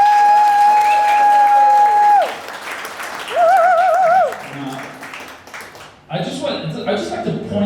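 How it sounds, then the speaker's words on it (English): At a book launch, sustained electronic tones and a warbling sound play at first. Near the end, a short burst of audience applause and cheering breaks out, mixed with voices. "Give him a round of applause."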